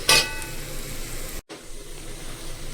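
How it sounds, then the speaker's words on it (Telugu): Coriander and mint are stirred into sizzling vegetable biryani masala with softened tomatoes, giving a close, steady hiss and the scrape of stirring, cut by one brief gap. No speech. "ఇప్పుడు కొత్తిమీర, పుదీనా 2 వేసేద్దాం. వేసుకొని మిక్స్ చేసుకుందాం."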